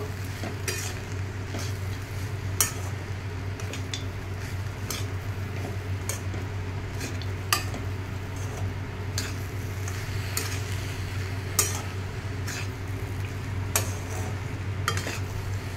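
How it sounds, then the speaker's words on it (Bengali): Semolina stirred in a pan over a low flame, a steady soft scraping and gentle sizzle under a constant low hum, with regular light clicks of the spoon against the pan. "আমি এটাকে জাস্ট একটুখানি ফ্লেমটাকে লো রেখেই নাড়াচাড়া করে নেব।"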